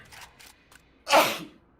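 A single close, loud sneeze bursts out after a few soft breathy sounds, with no talk.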